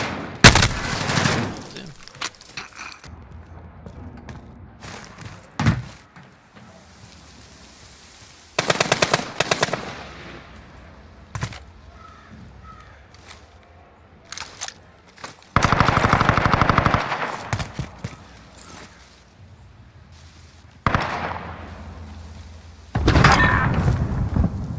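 Bursts of automatic gunfire from Modern Warfare Search and Destroy play, loud rapid volleys separated by quieter stretches, several distinct bursts over the span with thuds between.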